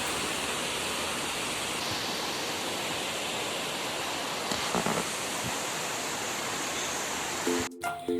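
A cold river at a hill-road bend rushes steadily nearby, a dense unbroken roar of flowing water with a few faint knocks near the end.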